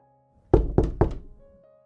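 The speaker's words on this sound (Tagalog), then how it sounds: "Kumatok siya ng 3 beses." Three firm knocks on an office door, close and evenly spaced, the last one trailing off into a short resonant decay against a quiet room tone.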